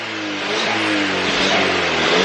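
Ford Fiesta ST with turbo given a short rev, engine note rising steadily and loud from close by over about two seconds, no talk.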